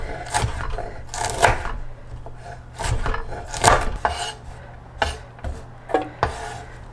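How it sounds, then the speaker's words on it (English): Knife chopping fennel fronds from the garden on a wooden board, a quick irregular string of close, crisp knocks and scraping strokes with no talk. "Chop all this up."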